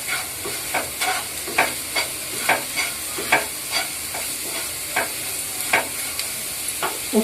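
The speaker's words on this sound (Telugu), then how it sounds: "ఇప్పుడు దీన్ని ఒకసారి ఇలా బాగా కలుపుకోవాలి." Bitter gourd curry mixture with salt being stirred in a pan for a Telugu kakarakaya mudda kura, a steady run of sharp, evenly spaced scraping strokes over a faint background sizzle, close and fairly quiet, with no voices.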